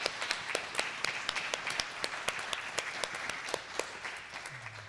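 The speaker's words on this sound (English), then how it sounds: "Let's offer our applause." A congregation claps at a Día de los Muertos church service, heard as a sparse, fairly regular run of distinct hand claps, quiet and somewhat distant, continuing evenly without voices.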